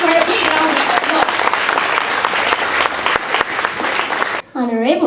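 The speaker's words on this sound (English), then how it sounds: "Please give her a big round of applause." Audience applause fills a school assembly hall, dense steady clapping that cuts off near the end as a voice begins speaking.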